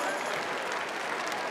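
Applause from the audience at the close of a celebration, a soft, steady patter of hands heard from some distance and holding evenly throughout.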